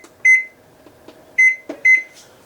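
A kitchen timer sounds three loud, close electronic beeps, one alone and then two in quick succession, in a quiet kitchen with faint handling noises between them.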